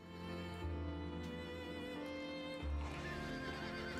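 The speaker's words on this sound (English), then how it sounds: "You can't go near the horses." Horses in the video game Dracula: Origin whinny and neigh in drawn-out, wavering calls with a shift partway through, hoof clip-clop and low rumble beneath, no one talking.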